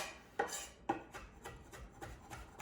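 A knife chops fresh rosemary on a board, giving quiet, close, rhythmic taps roughly every quarter second, with two sharper clacks early on.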